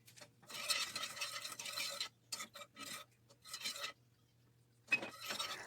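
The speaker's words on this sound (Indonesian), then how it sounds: "Kemudian kita tambahkan gula pasir dan aduk terus sampai gulanya larut." A spoon stirs sugar into warm milk in a pot in bursts of scraping and swishing against the pot, with short pauses between strokes, close and fairly quiet.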